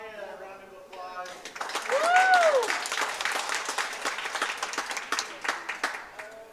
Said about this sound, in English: let's give Samaya a round of applause.